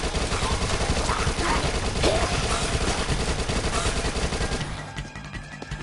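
Dense, rapid submachine gun fire from the Dead Nation Apocalypse video game on PS4, a loud continuous burst of overlapping shots with explosive game noise that thins out near the end.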